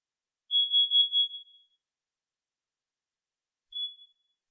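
A combined smoke and carbon monoxide alarm sounding during a test, giving a run of four loud, piercing electronic beeps, then silence and one more beep a few seconds later.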